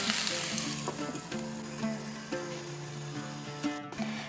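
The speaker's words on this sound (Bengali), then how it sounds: "এক থেকে 2 মিনিট এইভাবে হাই ফ্লেমে রেখে একটু নাড়াচাড়া করে নিয়েছি" Vegetables sizzle and fry steadily in a pan over a high flame, with a continuous crackling hiss broken by several distinct scraping knocks of a spoon stirring the mix.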